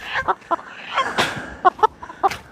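Backyard hens cluck in short, loud, close bursts, several sharp clucks spaced irregularly with a brief squawk among them.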